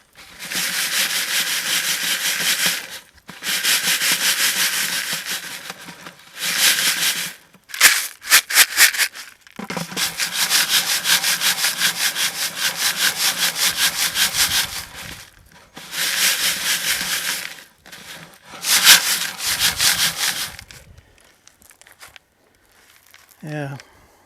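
Gravel, rough wash rocks from a southern New Mexico arroyo, shaken through a quarter-inch screen while prospecting for gold: loud, close, gritty rattling and scraping in long bursts broken by brief pauses.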